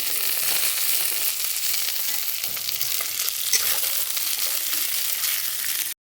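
Green chillies fry in a hot pan during home cooking of an Assamese fish dish, giving a steady, loud, dense sizzle with no voices that runs unbroken until it cuts off abruptly.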